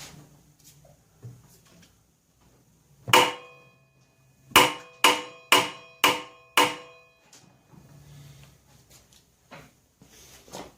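Metal hammer blows strike a nut on a Honda generator engine: one sharp clang, then a quick run of five ringing hits close by, with faint handling noise between.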